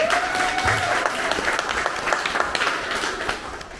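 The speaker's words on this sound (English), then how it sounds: "Applause for Danny." An audience at a live Melbourne Silicon Beach meetup applauds a speaker named Danny coming on stage, with dense, even clapping that continues throughout and fades slightly at the end.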